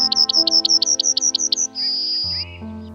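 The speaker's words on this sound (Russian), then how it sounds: "Прилетели овсянки. Из кустарников слышна их забавная песенка." Buntings sing from bushes in spring, a quick run of about a dozen high, bright chirps followed by a short sustained whistled note, heard clearly over a soft tonal background.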